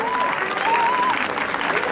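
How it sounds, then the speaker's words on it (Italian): Steady crowd applause for teachers at an Italian school gathering, loud and continuous over the short stretch, with a faint whistle or voice tone briefly audible within the clapping. "un applauso per tutti i docenti"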